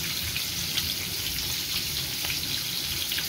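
Chapli kababs fry in a pan with tomato pressed into them, giving a steady, crackling sizzle of hot oil, close and continuous with faint pops and no voices.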